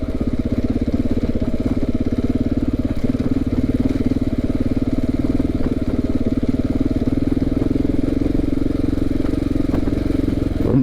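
A KTM 690 single-cylinder motorcycle engine chugs steadily at low revs while ridden slowly on a dirt hill trail, a continuous close, loud throbbing with slight surges and no pauses throughout.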